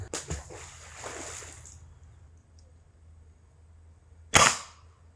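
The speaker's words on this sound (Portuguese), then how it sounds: "fazer um disparo num coco verde e ver se ela consegue atravessar" A PCP air rifle fires a fishing arrow through a green coconut: one sharp, loud crack near the end, after faint handling clicks and a low background hum, with no talk.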